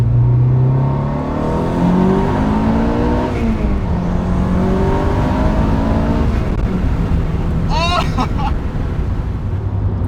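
A tuned 510-horsepower Volkswagen Golf R engine revs and climbs through several gear shifts, droning loudly and steadily as it accelerates, with a brief higher-pitched whine near the end.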